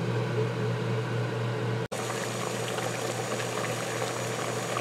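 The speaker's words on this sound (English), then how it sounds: "So once your water is at a rolling boil, now's the time." Water at a rolling boil in a pan for making dandelion jelly, a steady close bubbling roar that runs throughout, broken only by a split-second cutout partway through.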